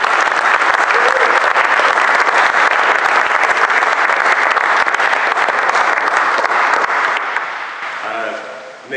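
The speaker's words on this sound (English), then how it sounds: "can I give a round of applause to Nick?" Audience applause for a performer named Nick, steady dense clapping close and loud for most of the stretch, thinning out near the end as a voice begins to speak.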